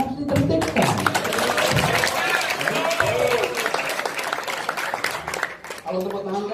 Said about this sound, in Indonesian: Kalau tepuk tangan keras masih kecil artinya